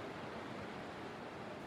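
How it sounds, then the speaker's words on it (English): The Sangkula River gushes down the mountains as a steady, broadband rush of water, faint and distant, unbroken throughout with no voices. "we hear the sound of gushing waters, and we come across the Sangkula River rushing down the mountains"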